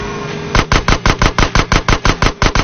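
Rapid video-game gunfire blasting open an old sewer gate: about a dozen loud, close, evenly spaced shots in a steady burst after a brief quieter lead-in, with no talking.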